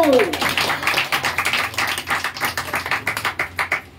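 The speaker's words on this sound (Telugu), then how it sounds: "గట్టిగా దేవునికి చప్పట్లు" A family prayer gathering breaks into loud, rhythmic group clapping for God, steady hand claps building up and continuing close and bright to the end.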